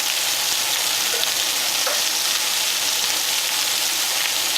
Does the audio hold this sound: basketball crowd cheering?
no